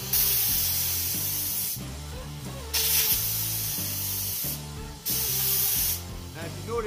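Hairspray is sprayed in several long, loud bursts of hissing aerosol, close up, separated by brief pauses, while a faint musical background continues underneath.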